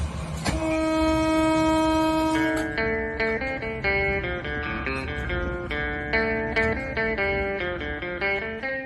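A Laos-China Railway train departing a station: a loud, sustained horn blasts for a couple of seconds, followed by a rhythmic series of musical chime-like tones ringing out steadily and prominently.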